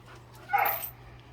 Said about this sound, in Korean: 뭐가 와서 경계로 짖는 소리인데